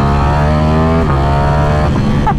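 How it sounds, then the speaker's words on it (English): Lamborghini Streetfighter motorcycle with a titanium exhaust blipping through loud, close downshifts, its engine note stepping up and down in pitch with crackles between the revs. "Listen to those downshifts."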